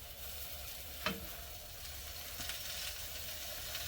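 Birria tacos fry in a pan with a soft, steady sizzle and hiss throughout, broken by a brief scrape or stir near the start, all fairly quiet and close.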